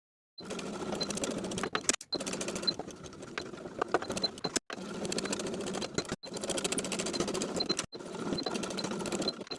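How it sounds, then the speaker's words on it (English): A sewing machine stitches belt loops onto the waistband of stretch denim jeans, running in five steady bursts of whirring, each stopping briefly between loops, fairly quiet and with no one speaking. "Sew each of the belt loops in place in line with the upper edge of the waistband"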